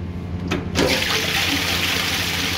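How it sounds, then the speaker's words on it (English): A toilet flushes during a pre-settlement final inspection of a house: a click of the handle, then a loud, close rush of swirling water that holds steady to the end, with no speech. "Now let's check out the flush in this."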